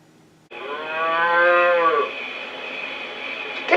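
A cow gives one long, loud moo close by. The call swells and then tapers off over a quiet background, with no voices.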